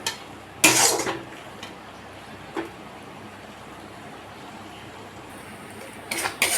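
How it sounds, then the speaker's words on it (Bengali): Spice masala being stirred and sautéed in a pan, with a few sharp scrapes and clinks of a spatula against metal separated by long stretches of a low, steady sizzle, close by. "ততক্ষণ মশলাটাকে কষিয়ে নেব।"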